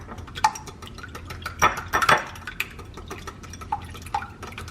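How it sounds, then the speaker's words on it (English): A wire whisk beats eggs together in a bowl, giving a few scattered metallic clinks and taps, loudest in a short flurry midway, over a low room background with no talking. "using a whisk, I'm just gonna whisk those eggs together"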